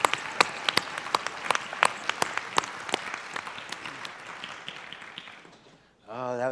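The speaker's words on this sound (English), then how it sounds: "how about another round of applause for our friends, our Ts'msyen family." Applause from a large audience at an elders and youth conference, sharp close claps over a dense wash of clapping that fades out before a voice begins speaking.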